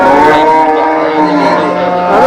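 A Kangeyam bull at the Melapalayam cattle market in Tirunelveli gives a loud, drawn-out moo close by, filling the short moment alone.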